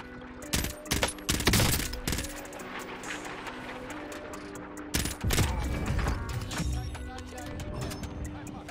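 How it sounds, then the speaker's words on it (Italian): Gunfire from assault rifles such as the M16 and AUG in the Warzone video game, heard as bursts and sharp shots with mechanical clicks, loud at first and again midway, over a busy game background. "Sto provando un po' di armi, Sifre."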